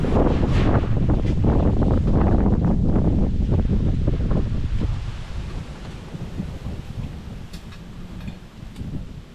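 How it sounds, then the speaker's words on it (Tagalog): Strong wind buffets the microphone with loud, rough gusts that ease somewhat partway through, leaving a lower, steady rushing. "Lakas ng hangin."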